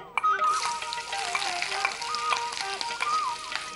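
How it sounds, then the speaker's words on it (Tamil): Sliced onion going into hot oil with cinnamon, cardamom and cloves, a lively crackling sizzle that runs throughout with a few stirring scrapes, close up and free of speech. "இது கூட வெங்காயம் சேர்த்துக்கிறேன்."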